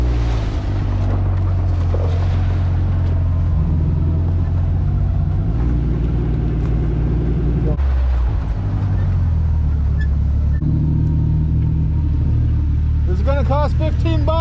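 A Chevrolet Corvair rolls out slowly with a steady, loud low engine rumble, the pitch shifting a few times, while a voice and a brief higher wavering tone appear near the end.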